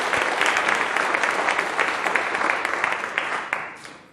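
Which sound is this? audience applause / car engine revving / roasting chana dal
audience applause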